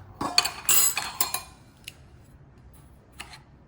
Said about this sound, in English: We're gonna stir it up.